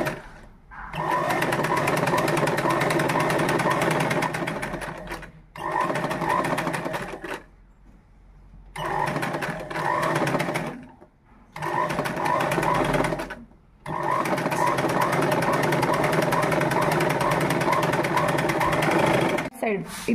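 A sewing machine stitches a uniform shirt in long steady runs of fast mechanical whirring, stopping briefly several times between seams, close up and loud, with someone talking over it.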